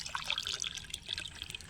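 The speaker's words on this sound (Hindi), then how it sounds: "ग्लास के अंदर आपने डाल देना है कुछ इस तरीके से पानी" Water poured into a glass for mixing a garden plant tablet, a soft, brief trickle and splash, faint and close with no voices.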